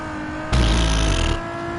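An old Camaro's engine roars in a racing video game time trial, a loud, close burst of revving that lasts under a second before dropping back to a lower hum.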